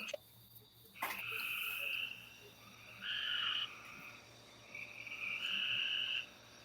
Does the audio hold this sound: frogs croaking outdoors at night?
yes